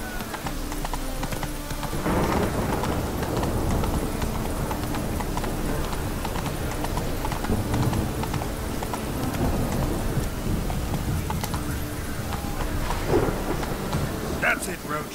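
Horse hooves clip-clop steadily in a video game over a rainy ambient backdrop, while someone talks over the gameplay.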